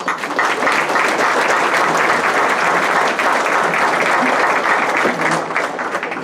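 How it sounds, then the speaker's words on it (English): An audience at a graduation brunch gives an alumni group a steady round of loud, dense clapping that carries evenly for several seconds. "Our alumni group, let's again give them a hand of applause."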